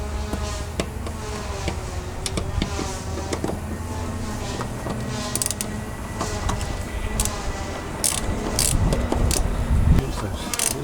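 A socket fitted with a Phillips bit works loose a filter bracket screw on the diesel engine of an MK2 Golf GTD, giving scattered clicks and metallic ratchet taps amid workshop clatter and faint talk.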